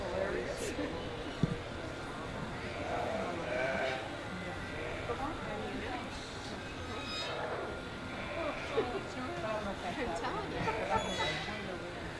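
Spring ram lambs bleat repeatedly at a livestock show's sheep barns, scattered calls over a steady hum of crowd chatter and an announcer's voice.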